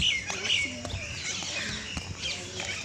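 Flocks of mynas on a road chirping and calling in short bright bursts, several birds overlapping at moderate distance over a low outdoor background.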